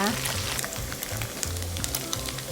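Pork pieces deep-frying in hot oil until golden and crispy, a steady close crackle and sizzle with scattered bright pops and some low clatter throughout.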